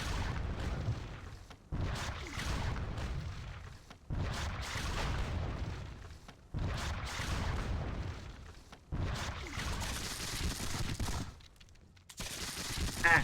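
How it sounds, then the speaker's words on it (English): Musket volleys crackle in a Seven Years War battle game, four or five dense bursts of massed fire each lasting a couple of seconds, separated by brief lulls, loud and close with rumbling booms underneath. "So we just exchange fire with one another."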